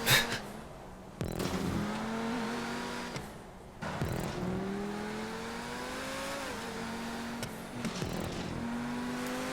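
An XA21 supercar with a V12 or V8 engine roars through a GTA 5 race, holding a steady high-pitched drone with rising revs, gear-shift dips and sharp shifts, loud and close with no talking.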